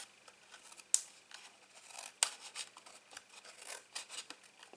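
Small scissors snipping a cardboard gift box, quiet crisp cuts with two sharper snips standing out among soft rubbing and scraping of the card, close and faint with no talking.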